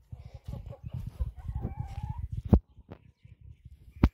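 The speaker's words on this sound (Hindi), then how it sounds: "और ये हमारी मुर्गियाँ हैं" Chickens and a rooster in a Kashmiri village kitchen garden: dense, close clucking runs through most of the clip, with a drawn-out crowing call near the middle and a couple of sharp squawks toward the end.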